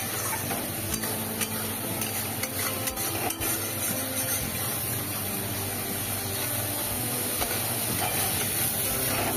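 Spices and green chilies sauté in oil for a rohu fish curry, making a constant close sizzle and hiss with scattered light clicks and scrapes of stirring.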